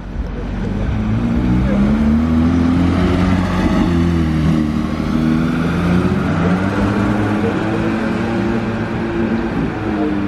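A Porsche Carrera Speedster drives by on a Monaco street, a loud continuous engine drone with shifting pitch and low rumble, close to the listener, with crowd chatter mixed underneath.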